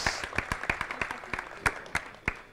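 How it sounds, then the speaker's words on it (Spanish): A small audience at the OSHWDem 2019 robot maze competition claps for the competitors, giving sparse, uneven individual claps close by that thin out over a few seconds. "Un fuerte aplauso para los competidores."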